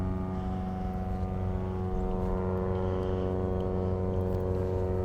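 An airplane flies overhead, its propeller engine a loud, steady droning hum that holds unchanged throughout.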